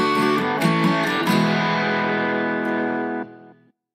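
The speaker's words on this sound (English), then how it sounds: "that sound is your halfway point reminder" A chime sounds as a halfway-point reminder in a walking podcast: a bright electronic tone with a few quick repeated strikes, then a sustained ringing note that holds for a few seconds and cuts off abruptly.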